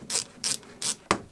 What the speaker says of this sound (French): On va prendre un tournevis, desserrer les vis, et ça devrait être bon.